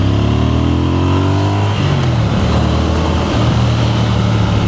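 A Triumph Speed Twin 1200 RS parallel-twin motorcycle engine revs hard and close. Rising, throaty pitch climbs through the gears, dipping briefly at a shift before pulling again under strong wind rush.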